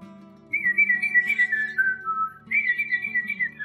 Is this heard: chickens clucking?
no